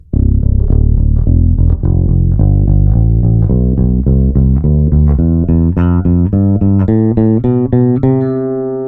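An Epiphone Thunderbird PRO V electric bass with its pickup blend set toward the neck plays a rising run of plucked single notes, each clear and sustained, ending on a longer ringing note, loud and close with no talking.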